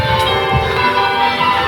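Church bells of Tewkesbury Abbey ringing, several bright overlapping tones sounding loud and sustained with no voices over them.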